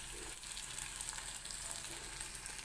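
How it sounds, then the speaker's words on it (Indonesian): Salted fish frying in oil until golden, a steady soft sizzle and crackle heard close up, fairly quiet, with no talk over it. "Lalu goreng ikan asin hingga kuning keemasan."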